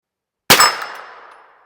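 A suppressed CZ P-09c pistol fires a single 147 grain subsonic hollow point round: one sharp, loud report with a quick metallic clang, trailing into a short fading decay.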